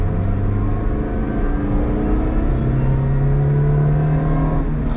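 From inside a Subaru Vivio RX-R kei car on the highway, the supercharger whines steadily over the engine drone as it accelerates, with no one talking.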